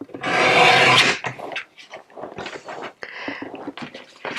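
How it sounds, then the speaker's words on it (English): A blade or trimmer slices a thin sliver off the rough edge of a recycled Christmas card, giving a loud scraping rasp at first, then a series of softer rustles and taps of paper being handled close by. "I just want to trim a sliver off of that just to neaten it up a little bit"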